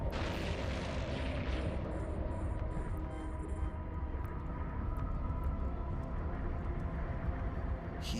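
A ship blowing up in the space game EVE Online, heard as a dense, sustained rumbling roar that fills the whole stretch, with a few faint high electronic beeps early on and no voices.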